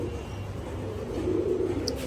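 Highflyer Damascene pigeons coo softly in low, throaty murmurs, close and steady against faint background noise, with no talk.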